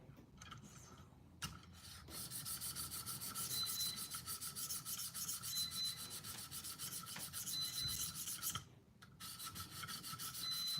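A knife blade being sharpened, passed from side to side to weaken and break off the burr: a steady close rasping, rubbing scrape running continuously, with a brief break near the start and another near the end.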